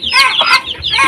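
A Shamo chicken clucks in a run of loud, close, harsh calls with short pauses between them.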